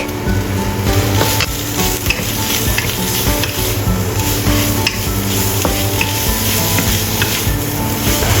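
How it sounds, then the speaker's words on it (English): Fish cake and chopped garlic stir-fried for an abalone noodle dish sizzle loudly and continuously, with dense crackle and spatter close up, punctuated by stirring scrapes of the pan, no voices. "Add fish cake and stir-fry."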